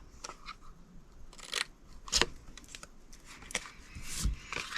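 Scissors snip along score lines in cardstock, giving a few sharp, quiet cuts and crisp paper rustles spaced irregularly at close range.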